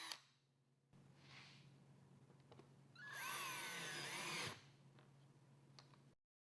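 A power drill whines for a second and a half, its pitch rising and dipping, as it drives a number 10 three-quarter-inch black screw into a Murphy bed stop pin. Soft handling noises come before and after in an otherwise quiet room.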